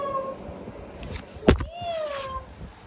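A voice imitates a cat with a drawn-out meow, followed by another rising meow-like call, close and fairly loud.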